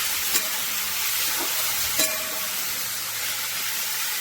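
Sugar melting in a hot pan as it is stirred, giving a steady soft sizzle with scattered light scraping taps of the spoon, close and alone without talk.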